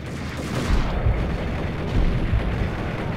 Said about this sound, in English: shooting one of the containers far away from me